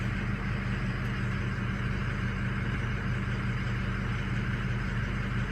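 Car engine idling steadily after a cold start, a continuous low rumble with even broadband noise that holds constant throughout, close and alone with no voices.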